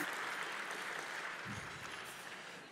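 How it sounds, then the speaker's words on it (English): Steady audience applause at an awards gala, a dense wash of many hands clapping that continues throughout at an even, moderately loud level and tapers off slightly at the end. "Let's give her another round of applause."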